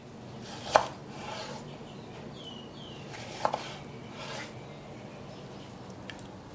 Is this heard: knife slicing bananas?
yes